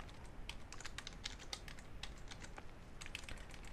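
Rapid, uneven clatter of keys on a computer keyboard as someone types Java Swing code, with quick bursts and brief pauses, close and moderately quiet with no talking.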